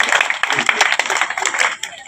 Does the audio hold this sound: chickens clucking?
no